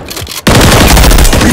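A BP50 assault rifle in Modern Warfare 3 opens up after a brief quiet moment into a loud, sustained automatic burst of rapid shots that lasts to the end.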